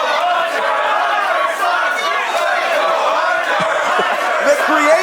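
A wrestling crowd at an SHW show roars and chants in a packed venue, a dense continuous wall of voices with shouts rising from the mass, loud and close throughout.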